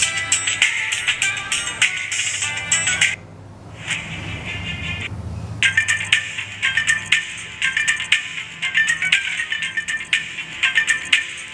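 A song plays through Zebronics wireless earbuds, a bright, tinny melody with a quick repeating rhythm, briefly dropping out twice before resuming, heard alone without talk.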